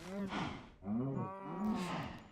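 Cows moo in a blocky game, three long, low bovine calls following one another closely and fairly loud, with no one talking.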